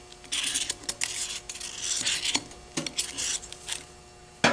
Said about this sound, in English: when you're sanding the inside of this circle